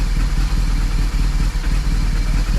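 BMW R 1200GS motorcycle engine idling in need of deeper servicing, a close, steady low rumble with a light mechanical clatter and slight rhythmic dips, no voices.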